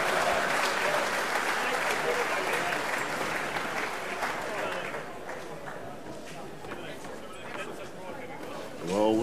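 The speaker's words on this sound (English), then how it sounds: "Give him a mighty round of applause as well as the rest" Crowd applauding at the Golden Shears 2014 shearing competition, loud steady clapping that gradually thins out, with voices mixed in and a brief tonal sound at the end.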